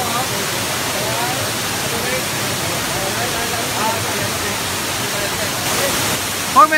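A waterfall about 80 to 90 metres high at Mount Wuyishan roars as a steady, dense wash of rushing water that holds unbroken throughout, with a brief faint sound near the end.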